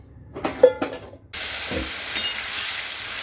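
Potatoes frying for a potato curry give a steady close sizzle and hiss that starts abruptly and holds to the end, after a few brief stirring clatters of pan and utensil.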